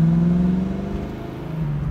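Exhaust of a 1969 Chevrolet Camaro convertible with a four-speed, a deep steady rumbling drone heard close and fairly loud for a couple of seconds, with no talk over it.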